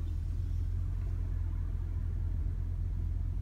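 An Audi Q7 3.0 S Line engine runs with a steady, deep rumble, an even low drone that holds throughout without revving, heard alone.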